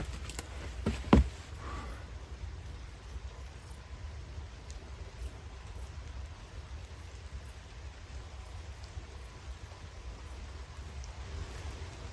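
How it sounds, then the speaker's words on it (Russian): Steady rain falling and pattering on a shelter roof near a dugout in the forest, a constant close hiss, with a couple of louder knocks at the start. "Дождик пошел."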